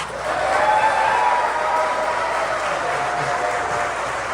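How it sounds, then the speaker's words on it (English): A large crowd at a political party event for Tennessee state senator Bo Watson applauds in a steady, dense wash of clapping that swells early and then holds evenly, heard from within the room. "I want you all to join me in giving a massive round of applause and support to your state senator, Bo Watson"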